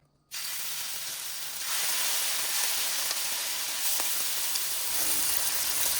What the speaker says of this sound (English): And I'm using about 2 tablespoons of vegetable oil for the stir fry.